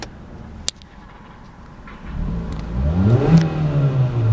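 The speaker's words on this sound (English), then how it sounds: "Give it a rev." A 2014 Hyundai Accent GLS sedan engine idles quietly, then is revved hard, its note climbing and swelling loud and close before holding high.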